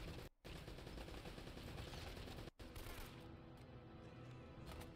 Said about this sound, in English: you like the machine gun turret so much?